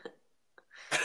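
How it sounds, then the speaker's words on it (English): A man coughs, one short burst, then after a pause a smaller throaty catch followed by a louder, harsher rasping cough, close to the mic. "Excuse me for the coughing"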